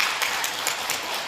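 A school audience claps steadily in a brief burst of even, dense applause after a flute ensemble finishes its piece at a children's orchestra charity concert held in a library in Gimhae.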